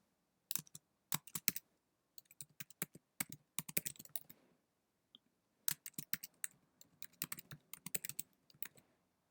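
Computer keyboard typing in quick bursts of crisp, close clicks, pausing briefly between runs of keystrokes, with no voices.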